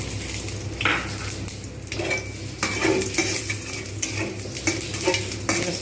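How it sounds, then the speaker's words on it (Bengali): Whole cumin, dried red chili and bay leaf tempered in hot oil in a pan for Bengali banana-flower curry, with a steady oily sizzle under repeated scraping and clinking of a spatula against the pan, close and fairly loud. "এর মধ্যেই আমি গোটা জিরে শুকনো লঙ্কা তেজপাতা ফোড়ন দিয়ে দেবো"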